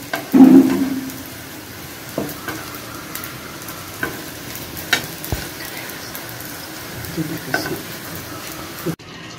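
Jalebi batter is piped in swirls into hot oil, with a steady low sizzle and frying crackle plus a few soft knocks and clinks as each coil is added, fairly close and without talk.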